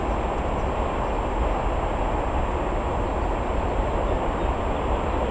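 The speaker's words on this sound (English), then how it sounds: "There's a train going by." A train rumbles steadily past at a distance, a continuous low roar with faint rail clatter filling the background, no voices over it.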